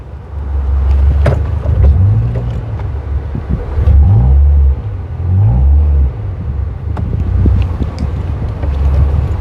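A manual-gearbox Toyota Vios sedan being driven: a loud engine rumble that rises and falls through several revving, shifting pulls, with wind buffeting the microphone and no talking.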